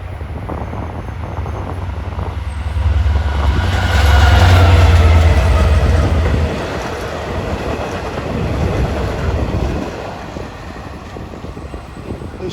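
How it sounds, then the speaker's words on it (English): Passenger train 8736 from Jamaica rumbles past at Rosedale on Long Island, a loud, close pass with rolling low-end roar and clattering wheels that swells mid-clip and then eases off, with no talking. "Here comes train 8736 from Jamaica to Spionk, way out east."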